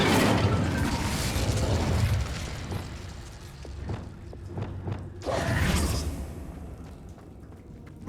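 A fiery spell burst in Hogwarts Legacy, a roaring whoosh and rumble at the start followed by a second loud flaring burst midway, with mechanical creaks between.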